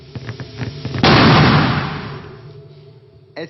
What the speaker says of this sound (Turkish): otomobil lastiği patladı